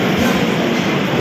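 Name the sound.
train arriving at the station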